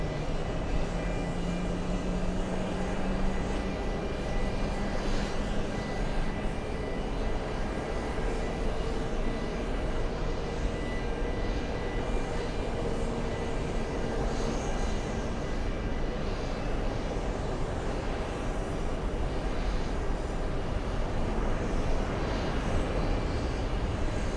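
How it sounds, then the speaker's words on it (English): An aircraft of the Russian Special Flight Squadron flies past, a steady broad engine roar near an airport that holds evenly throughout, with no voices. "The Russian Special Flight Squadron."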